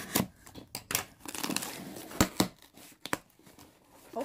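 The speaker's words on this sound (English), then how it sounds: "I'll just cut it from this side." Cardboard packaging for a Samsung Galaxy Watch Active being cut open, with a series of short, close scraping and tearing cuts separated by brief pauses, fairly quiet overall.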